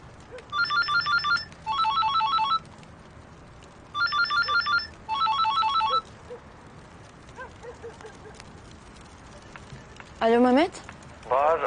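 A telephone rings in repeated electronic trilling bursts, four in pairs across the first six seconds, then another tone near the end, fairly loud over quiet room noise and faint footsteps.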